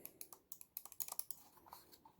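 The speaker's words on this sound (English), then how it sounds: "This is the scroll wheel click." Clicking from the scroll wheel of a Razer Basilisk X HyperSpeed wireless mouse: a faint, irregular run of small, quick plastic clicks, close up and alone.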